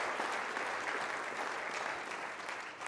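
An audience at an AAEM gathering applauds steadily, a dense wash of clapping that holds level, then eases slightly near the end.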